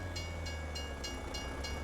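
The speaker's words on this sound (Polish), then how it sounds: "Kurczę, ten pociąg zawija tutaj." Train from the video game Farming Simulator 25 rumbling past, a steady low drone with faint rhythmic clicks of wheels over rail joints, close and continuous with no talking.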